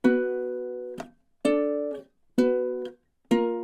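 Measures 9 and 10 of a song ring out on a ukulele: four sustained plucked chords, each decaying and then muted before the next, spaced evenly, clear and close with no talking.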